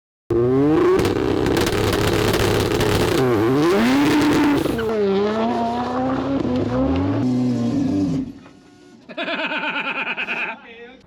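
A four-rotor rotary-engine car drives with a loud, close engine note that rises and falls through repeated revs and gear changes. It cuts off briefly, then comes back with a higher, buzzier whine.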